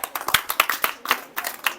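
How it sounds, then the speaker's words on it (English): A group of students claps for a speaker at a village-versus-city debate, a short burst of scattered, uneven hand claps close by with no voices over it. "Big clap for Sagar"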